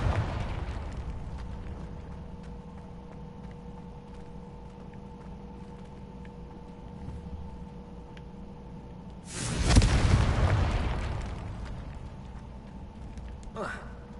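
A Confringo fire spell from Hogwarts Legacy bursts once with a loud, broad blast that decays over a few seconds. It follows a steady humming game ambience, and a smaller sharp pop comes near the end.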